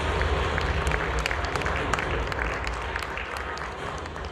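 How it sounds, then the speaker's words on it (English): Audience applause for a speaker at an evening talk, a dense, steady patter of many hands clapping that fills the room and fades slightly toward the end. "welcome Nuriel with a big round of applause"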